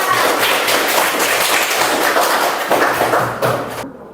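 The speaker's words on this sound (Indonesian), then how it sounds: "Beri tepuk tangan yang meriah untuk kita semua." Classroom applause from pupils after a lesson activity, a dense, steady patter of many hands clapping close by throughout, thinning and stopping abruptly near the end.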